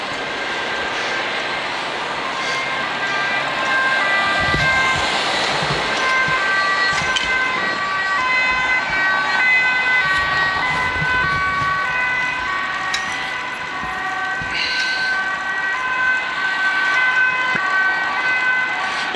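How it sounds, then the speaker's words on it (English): A wailing ambulance siren rises and falls steadily for a long stretch, fairly loud and continuous amid background traffic noise. "Oh, ambulance coming."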